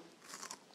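Someone bites into a raw onion salad, a short, close crunch with crackly chewing texture, quiet and brief with no speech.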